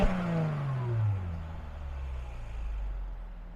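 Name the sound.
Mercedes-Benz E350 V6 exhaust revving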